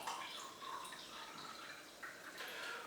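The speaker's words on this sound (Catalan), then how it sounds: "per preparar el nostre cava de mentida hem de posar una miqueta d'aigua amb gas" Sparkling water is poured into a glass for a homemade mock-cava experiment, giving a faint, steady fizzing and trickling hiss for a few seconds, with no talk.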